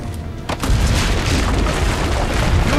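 A heavy boom bursts out after a short lull, followed by a sustained rumbling roar of cannon fire from a rampart and battle noise in Assassin's Creed Brotherhood, loud and dense.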